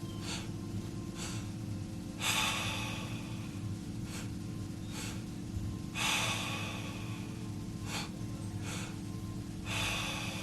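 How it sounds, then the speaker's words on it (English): Deep breathing during a breathwork meditation, with forceful inhales and exhales repeating in a steady rhythm, close and clear over a constant low background hum, and no talking. "Last few breaths."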